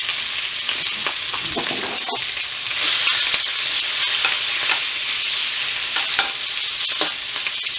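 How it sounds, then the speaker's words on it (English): Halved, not fully dried shrimp fry in a hot pan for fried rice, a loud continuous sizzle dotted with sharp pops and crackles, close up and without talk. "I didn't completely dry the shrimp off, so it's probably going to pop all over the place"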